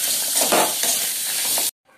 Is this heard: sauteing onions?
yes